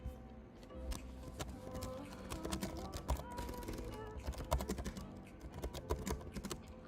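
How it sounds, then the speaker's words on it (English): Rapid, irregular clicking of keys on a computer keyboard, continuous for several seconds at close range and low level, with a soft background hum. "I have to type though."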